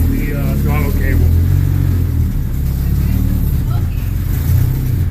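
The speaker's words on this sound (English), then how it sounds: "Is it idling by itself? No, I gotta kind of hold my foot on it." Honda H22 engine running just after its first start, a loud steady rumble with slight surges of throttle, heard close up with a person talking over it.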